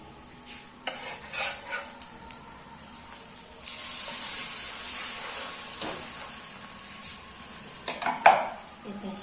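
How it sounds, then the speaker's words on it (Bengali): An egg paratha is flipped in a frying pan, giving a few light utensil clinks and scrapes before a steady, close hiss of sizzling oil that swells and then fades, with a final sharp scrape. "এক পাশ হয়ে গেলে এখন আমি এই পাশটা উল্টিয়ে দিব।"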